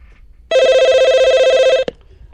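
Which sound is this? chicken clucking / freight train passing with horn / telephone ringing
telephone ringing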